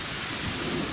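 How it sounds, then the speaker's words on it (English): Hail and rain pelting down during a severe evening thunderstorm in August, a steady broadband wash of impacts with low rumbling thunder rolling underneath, loud and close throughout with no talking. "I got hail."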